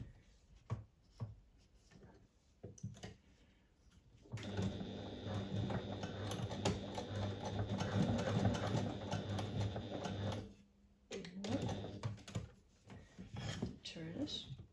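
A sewing machine stitches fabric at a 3.5 stitch length along the edge of webbing, running as one steady, close whir for about six seconds between quieter stretches of handling and faint voice.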